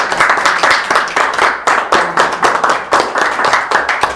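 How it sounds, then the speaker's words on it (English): Sustained round of applause at a town board of trustees meeting, many hands clapping steadily and densely for several seconds with no talking over it. "Monica is due a very, very round of applause"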